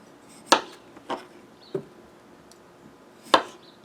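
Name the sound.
knife slicing potatoes into thirds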